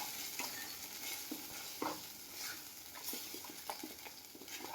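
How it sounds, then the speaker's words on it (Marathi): Cashew masala gravy with garlic and ginger paste stir-fried in oil, a soft, low sizzle broken by repeated scraping clicks of a spoon stirring the pan, fairly faint and with no talking. "तेलामध्ये चांगली परतून घेऊ ग्रेव्ही"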